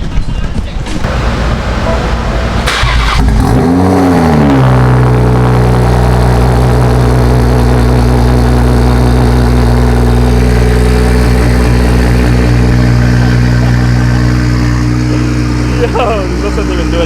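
A BMW M240i with a B58 engine and custom exhaust cranks, fires up with a rising rev, then settles into a loud, deep, steady idle close by, with a brief blip near the end and people talking.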